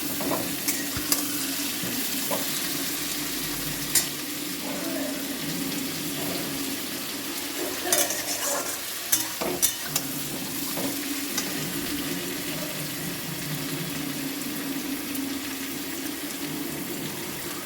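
Prawns sizzle and fry in a pan while being stirred, a steady crackling hiss with scraping clicks and occasional sharper knocks from the utensil, no talking.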